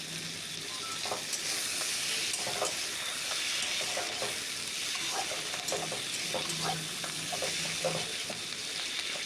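Potato and eggplant are stir-fried with onion, tomato and green chili in a pan. A steady close sizzle runs throughout, broken by scraping stirs and light clinks, with no talk over it.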